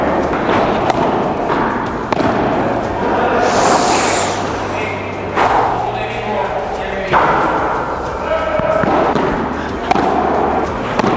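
Head Coello padel racket from the 2026 collection striking the ball in attack shots, several sharp thuds spaced a few seconds apart over steady court noise, with speech underneath.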